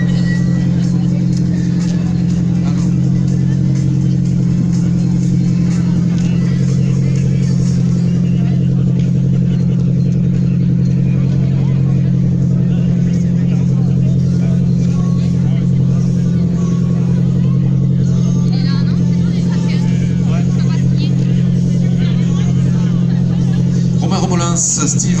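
Rally cars roll into the finish park at the Cœur des Vignobles rally, a steady loud engine drone with vehicles passing, under a crowd murmur and a voice on a public address.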